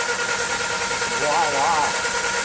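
Land Rover Series 2A engine cranked by its starter motor, a steady loud whirring drone with a brief wavering pitch near the middle, close by and continuous.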